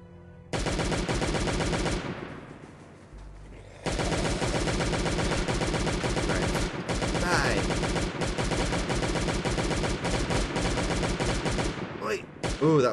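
Sustained automatic M4 rifle fire in a video game, long rapid bursts with a brief lull, loud and close, with a few scattered sounds near the end.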